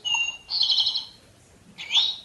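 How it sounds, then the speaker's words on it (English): A bird sings alone in three bright, high chirping phrases, the middle and last ones loudest, separated by short quiet gaps. "A song from a bird."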